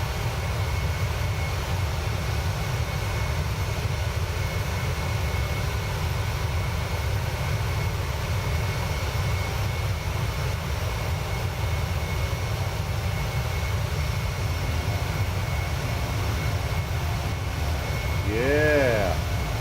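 A Boeing 737 landing in Microsoft Flight Simulator 2020 at the Freedom Factory, heard as a steady, loud jet engine drone with a low rumble held throughout, and a brief rising whine near the end.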